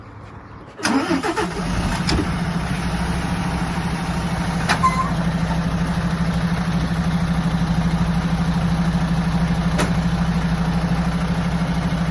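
A tractor engine starts with a brief crank and settles into a steady, loud, low idle that drones on unchanged, with a few faint clicks, during an off-road truck-and-trailer licence test.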